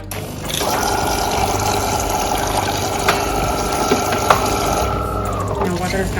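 A De'Longhi Magnifica S espresso machine pumping water through during a descaling cycle gives a steady mechanical drone with a humming tone, plus a few light clicks and knocks, close and fairly loud.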